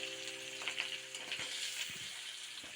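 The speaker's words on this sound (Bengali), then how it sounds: "এবার গরম তেলে দুটি কাঁচা লঙ্কা ও কুচনো পেঁয়াজ দিয়ে দিলাম।" Two green chillies and chopped onion crackle and sizzle in hot oil, with a steady close frying hiss and a few stirring scrapes.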